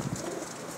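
Pet pigeons bred from a master breeder's line coo softly in a brief, low murmuring call close by, with no talk over it.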